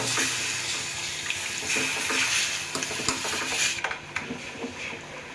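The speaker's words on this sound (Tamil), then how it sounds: "கொஞ்சம் தண்ணி விட்டு நல்லா வதக்கி விட்டுட்டு இன்னும் கொஞ்சம் தண்ணி ஊற்றிக்கலாம்" Water poured into a pan of chicken curry as it sautés, a steady broadband splash and gush running continuously for several seconds, easing off near the end.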